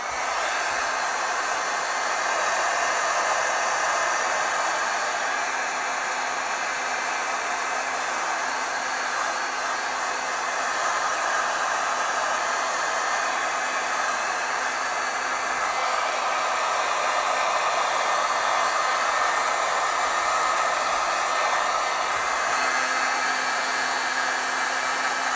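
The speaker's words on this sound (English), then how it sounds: "let's heat set this a touch." A heat tool blows steadily and loudly while heat-setting oil-based stamp ink on a forest scene, a continuous hiss-like whoosh lasting throughout with no talking.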